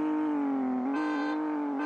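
Race car revving from the mobile game CSR Racing, a steady engine drone close up whose pitch sags slightly before a gear shift lifts it, alone without voices.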